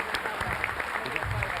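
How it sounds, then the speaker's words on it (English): Audience at a Kentucky Chamber breakfast applauding winning teams, a steady wash of many hands clapping from across the room, heard briefly and at moderate level. "So give them all a round of applause"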